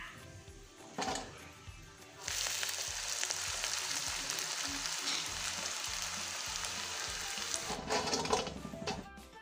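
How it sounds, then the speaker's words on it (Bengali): Nakshi pitha, a traditional Bangladeshi patterned rice cake, frying in hot oil: a loud, steady crackling sizzle rises sharply after a quieter start and continues close up, with a few clinks near the end. "আপনাদের দেখানোর জন্য একটু ভেজে দেখাইলাম। দেখেন ভাজার পর কেমন হয়।"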